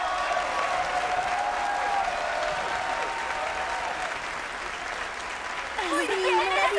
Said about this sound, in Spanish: ¡Aplausos para el número dos!